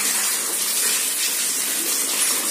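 Tap water runs steadily while ginger is washed under it, a close, continuous gushing splash with no talking.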